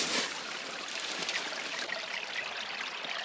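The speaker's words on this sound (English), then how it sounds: "Crystal clear natural spring water." Natural spring water trickles and flows steadily in a small stream, a continuous soft babbling wash close by with no voices over it.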